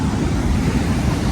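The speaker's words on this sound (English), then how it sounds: "all these like waves coming in like this are probably breaking on your head" Ocean waves breaking at T-Rex Beach on Nusa Penida, Bali, a dense continuous roar of surf mixed with heavy wind buffeting on the microphone, loud and unbroken with no talk.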